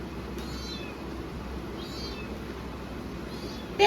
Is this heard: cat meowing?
yes